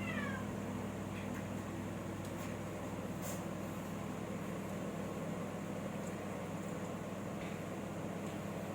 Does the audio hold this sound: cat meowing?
yes